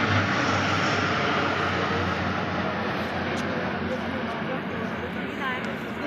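Military jets, Sukhoi and MiG-29 aircraft flying in formation, pass overhead as a loud, steady broadband roar that fills the whole stretch, with a commentator speaking over it.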